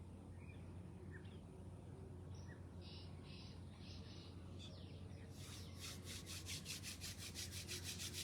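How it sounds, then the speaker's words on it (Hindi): Palms of both hands rubbed briskly together during a home yoga and breathing session, a close, steady swishing friction sound under a low background hum, with faint bird calls nearby. "दोनों हाथ की हथेलियों का आपस में रगड़ना"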